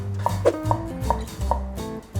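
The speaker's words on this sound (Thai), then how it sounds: "เราจะมาหั่นตัวกระเทียมกับตัวหอมแดงกันครับ" A knife chops garlic and shallots on a cutting board in a kitchen, producing a run of evenly spaced, crisp taps that sound close and moderately loud.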